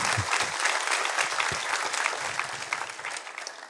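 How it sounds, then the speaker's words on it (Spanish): A church congregation bursts into steady, dense applause, a sustained wash of many hands clapping at moderate volume with no talking over it. "Vamos a darle un aplauso al Rey de Gloria."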